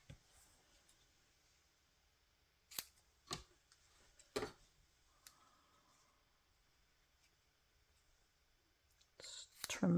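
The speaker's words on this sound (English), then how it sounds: "Let's trim that up a little bit." Scissors make a few quiet, separate snips while trimming ribbon on a handmade Christmas card, heard up close in an otherwise hushed setting, with soft rustling and a louder handling noise toward the end.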